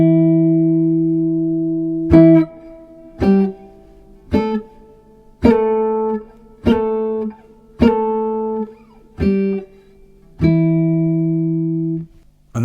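Vintage-style jazz guitar octave licks with slides, a long sustained opening note followed by a series of plucked octave pairs at an unhurried pace, each ringing briefly, close and unaccompanied with no voices.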